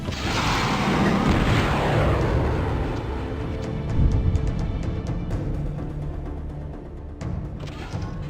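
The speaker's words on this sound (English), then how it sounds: "they fire a barrage of missiles that will definitely finish off the enemy ship in this case" A missile barrage from a spaceship in Starship Corporation rumbles loud and continuous, a deep booming roar with crackling bursts and scattered sharp impacts as it strikes an enemy ship.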